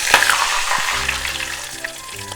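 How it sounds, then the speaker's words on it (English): Flour-dusted shrimp heads fry in hot oil with a loud, busy crackle and sizzle, close by and steady, with a few faint tones underneath. "The head part of the shrimp, I'm not gonna put it in the batter, I'm just gonna fry it like this with the flour"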